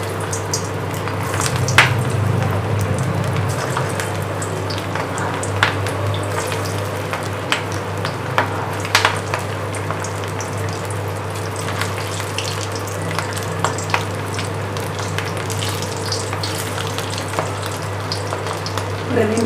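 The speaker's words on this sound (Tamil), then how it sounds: "இப்போ எண்ணெயில் ஒன்றா மெதுவாக போடுங்க." Mutton kola urundai meatballs fry in hot oil over medium heat, giving a steady, close sizzle with frequent small pops and crackles throughout.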